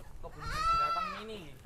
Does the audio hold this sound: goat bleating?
yes